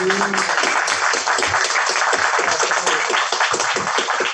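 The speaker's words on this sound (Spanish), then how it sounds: "Así que un aplauso para los expositores." An audience at a cultural heritage and social inclusion forum at the Universidad Nacional de Avellaneda applauds the speakers, with steady hand clapping from a seated crowd and some nearby voices mixed in.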